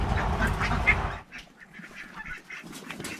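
Ducks near a tire nest holding their eggs, quacking and honking close by in a loud burst that drops off sharply partway through, leaving fainter scattered calls.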